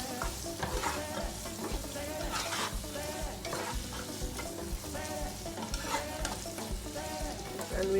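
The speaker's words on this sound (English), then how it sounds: "So we give all of these a stir." Onions and Scotch bonnet chili fry and sizzle continuously in a pan while being stirred, with a loud close crackle and frequent scraping throughout.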